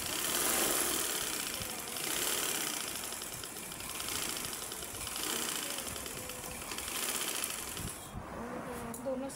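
A sewing machine runs in steady bursts while stitching an old shirt into a frock, a close whirring, rattling mechanical drone that briefly slows near the end.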